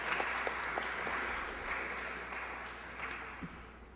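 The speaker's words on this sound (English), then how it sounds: "can we give all the schools a round of applause for their initial opening statements?" Audience applause for the participating schools after their opening statements at a youth productivity forum, a steady, fairly faint wash of clapping from a room crowd with no talk over it.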